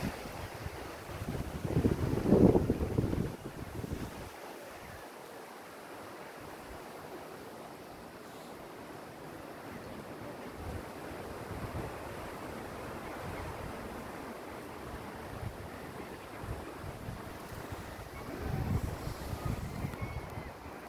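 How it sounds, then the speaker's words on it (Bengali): Ocean waves wash onto Charleston sea beach, a steady broad roar with gusty wind buffeting the microphone, louder surges near the start and end. "সমুদ্রটা মনে হয় একটু এগিয়ে এসছে"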